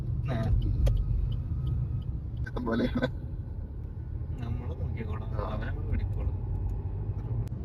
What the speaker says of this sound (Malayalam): സാന്ദ്ര ചേച്ചിയുടെ ഹസ്ബൻഡ് ഞങ്ങൾ വന്ന് പിക്ക് ചെയ്ത് ഞങ്ങൾ ദേ വീട്ടിലേക്ക് പോവാണ്.